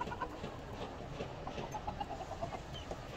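Hens and a rooster clucking in a farmyard while they crowd together to drink water, with scattered short clucks over a dense, steady noisy background.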